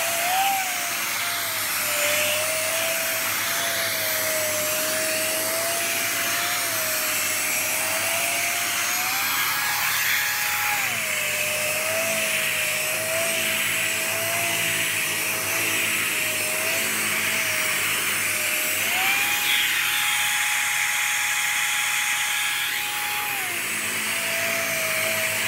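A Dyson DC39 vacuum cleaner runs steadily and loudly throughout, its motor whine holding a constant pitch with brief shifts in tone as it works, with no voices.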